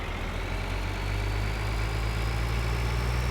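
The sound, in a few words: tractor trailer engine in video game Farming Simulator 2013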